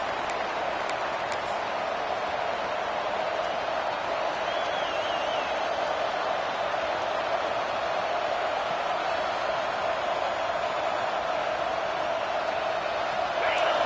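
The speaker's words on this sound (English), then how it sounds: "This crowd trying to show them what it's going to be like all day in this house." Penn State football stadium crowd roaring steadily through an opening kickoff, a loud sustained wall of cheering with a whistle-like tone rising briefly, heard alone without talk.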